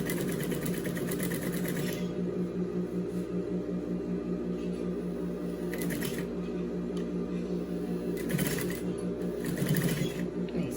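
A sewing machine runs steadily, stitching a cargo pocket onto protective biosafety overalls, a continuous mechanical whir with brief shifts in pace and a few light clicks near the end, with no voices.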